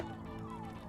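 A steady electronic alarm from the video game Five Nights at Freddy's blares continuously, a dense buzzing tone with a faint sweeping pitch, loud and unbroken.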